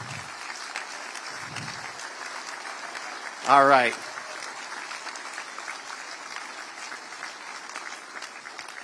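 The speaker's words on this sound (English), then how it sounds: "so we can give you a big round of applause" Applause from a crowd at a political rally, with a short rising whoop partway through and someone briefly speaking.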